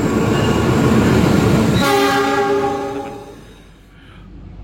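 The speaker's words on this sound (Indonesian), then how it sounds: "selamat datang di kereta api Pangrango New Generation" The Pangrango New Generation passenger train in Indonesia passes with a loud rumble, then sounds a sustained horn that fades as the train moves away.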